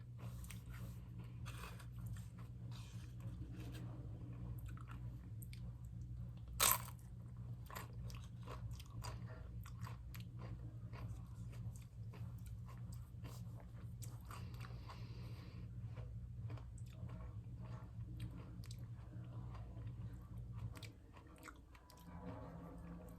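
Someone eating tacos with sour cream up close, with steady bites and moist chewing over a constant low hum; one sharper knock stands out midway and the room noise dips near the end.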